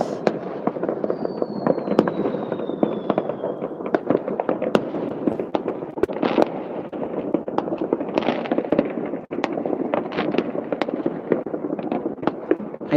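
New Year's Eve fireworks in Poland crackle and pop densely and continuously, with sharp bangs and a whistling rocket, heard at a distance.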